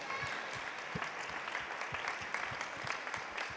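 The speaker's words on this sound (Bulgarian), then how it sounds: "Аплодисменти за Ивана Муцкова, носител на Гран-при на второто издание на Музикален импулс" An audience in a hall applauds steadily for a Grand Prix winner at the Musical Impulse 2018 contest, a dense wash of many hands with a few sharper, closer claps standing out, no talking over it.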